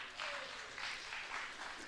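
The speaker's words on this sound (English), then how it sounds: "We can give some applause for that." An audience at an evening devotional gathering applauds in a short, moderately faint burst of scattered clapping with a few swells.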